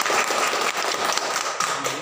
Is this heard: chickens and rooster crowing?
no